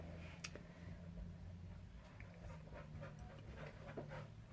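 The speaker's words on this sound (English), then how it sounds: "My dog is going nuts behind us." A dog pants rapidly and keeps stirring in the background, a steady breathy rhythm beneath low hum and faint scattered clicks, fairly quiet throughout.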